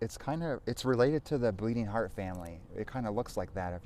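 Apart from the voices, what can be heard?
No everyday noise stands out behind the speech.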